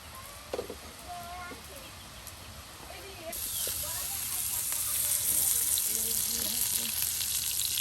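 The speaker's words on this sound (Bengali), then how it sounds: "আর এখন তেল দিয়ে শুকনা মরিচ দিয়ে একদম ভাজা ভাজা করে নেওয়া হবে।" Dry chillies fry in hot oil, a bright crackling sizzle that swells suddenly partway through and then holds steady and close, with soft voices talking underneath.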